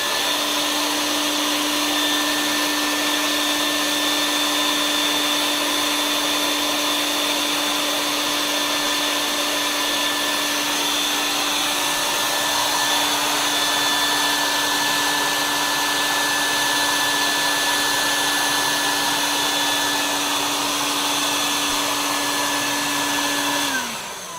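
A cocoa bean winnowing machine runs for over twenty seconds as a loud, steady mechanical whir with a constant pitched hum that barely changes, then cuts off at the end.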